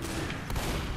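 Gunfire in the video game Left 4 Dead, a quick, dense burst of shots packed into a single second, fairly quiet and rough.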